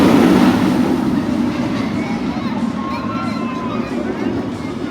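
The Manta roller coaster train at SeaWorld Orlando rumbles along its track with a steady, fairly loud roar and some rattling, set against crowd noise.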